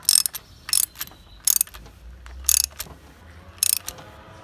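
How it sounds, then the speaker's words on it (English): Socket ratchet tightening a spark plug on an outboard engine: short bursts of clicking come in several separate runs, close and fairly quiet, with no talking. "Once it gets tight, grab the socket and tighten it in place"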